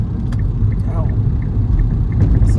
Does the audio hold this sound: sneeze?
no